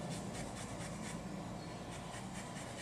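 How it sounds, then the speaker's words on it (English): A microplane grater rasps rhythmically across orange, lemon and lime peel, quick repeated scraping strokes heard close and fairly quiet, with no one talking. "just the zest of each of an orange, a lemon, and a lime. Again, the microplaner works great for this."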